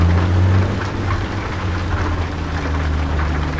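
Heavy rain drums steadily on an International 9900i truck loaded with 28 tonnes in New Mexico, under a low engine rumble, with no talk.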